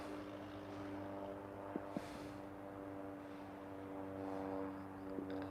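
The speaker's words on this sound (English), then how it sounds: "I wonder if those planes can see me, taking video of them." Airplanes flying overhead, a low, steady engine drone with a humming propeller-like tone, faint and distant, heard outdoors with a few brief bumps from the handheld recording.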